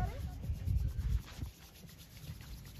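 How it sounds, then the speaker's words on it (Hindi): Palms rubbing together briskly during a beginner yoga session, a soft close friction swish that lasts about a second and a half, then fades to quiet. "अब आप अपने दोबारा से हैंड्स को रब करेंगे"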